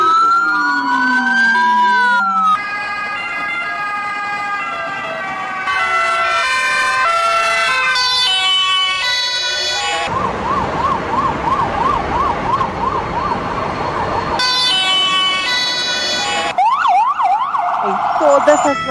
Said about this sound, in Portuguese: sirenes de ambulância.